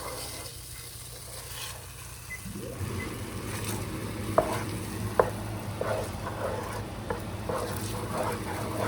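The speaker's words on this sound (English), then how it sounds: "Now we gotta mix that cream cheese around. Kind of break it up a little bit." Cream cheese is stirred and broken up in a sizzling pan for shrimp Alfredo, with a continuous frying hiss, soft scraping of the utensil, and a few sharp clicks and taps against the pan, all close and without talk.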